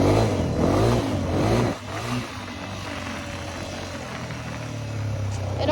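A small, low-powered dirt bike rides laps on a backyard track; a loud, revving engine burst drops into a steady, droning hum that swells slightly at the end.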